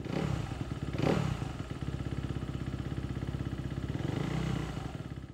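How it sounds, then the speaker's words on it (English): A motorcycle engine fires up on the starter and settles into a steady, close idle during a fuel pressure test, a continuous rumble with a brief rise near the start. "we're gonna hit the starter button and let the bike run and see what the pressure is"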